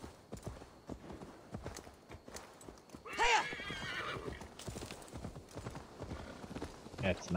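A horse in Assassin's Creed Valhalla gives a loud whinny amid clip-clopping hooves and game sounds, with a player talking over the action.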